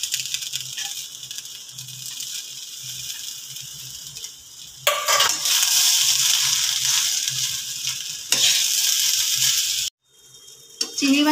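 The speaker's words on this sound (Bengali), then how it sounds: "চিংড়ি মাছের মশলাটা দিয়েও ভালো করে চালটা কষিয়ে নিলাম।" Rice stir-fried with prawn masala in a wok gives a close, gritty scraping and sizzling that comes in bursts between quieter stretches, ending in a sudden brief lull.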